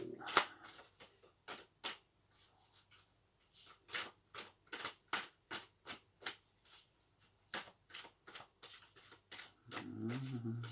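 Tarot cards being shuffled in quick, crisp bursts of riffling, a series of short papery flutters with brief pauses between them, close to the listener.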